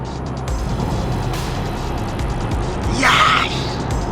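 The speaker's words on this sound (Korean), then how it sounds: "모터가 회전하는 RPM 소리잖아요" A Kia EV6 GT electric sports car accelerates hard with a loud, steady road and motor roar, and a rising whine swells near the end.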